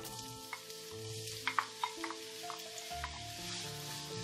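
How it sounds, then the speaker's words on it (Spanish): Onion softening in a pan while stuffed peppers with minced meat are prepared, giving a steady soft sizzle with scattered scrapes and taps of a stirring utensil, close and fairly quiet, with no talking. "Dejamos que se sofríe unos dos minutitos. Un par, de minutitos que se poche la cebolla."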